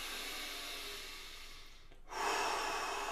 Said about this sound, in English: So you want to breathe everything out, out, out.